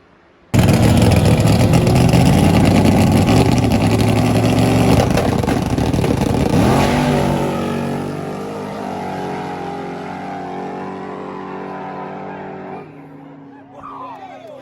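A HEMI-powered coupe makes a final-round drag racing pass at an underground race day: a sudden, loud engine roar bursts in and holds, its pitch sweeping with shifts midway, then gradually recedes and softens toward the end.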